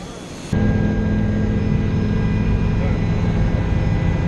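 A steady, loud roar of a medical helicopter's engine begins abruptly and continues droning, heard from inside or nearby.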